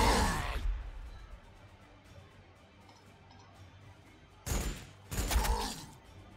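Space Wolves open fire in Warhammer 40,000: Sanctus Reach: a loud burst of shots at the start, a quieter gap, then two more heavy volleys near the end.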